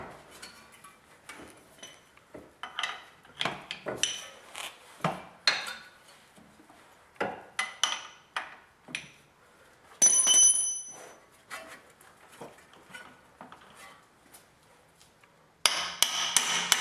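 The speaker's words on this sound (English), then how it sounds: "I'm just going to use a little 3/8 extension hopefully to press it out." A 3/8 extension is struck with a hammer to press out a CV axle, producing a series of sharp metallic blows in irregular bursts, with near silence between groups and some ringing clanks.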